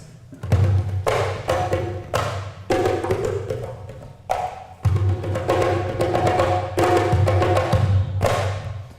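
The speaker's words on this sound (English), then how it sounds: "sounds like your own little drumline rhythm happening, just on one drum" A hand drum played in a busy rhythmic pattern, mixing open booming tones with short slaps and taps, close and loud.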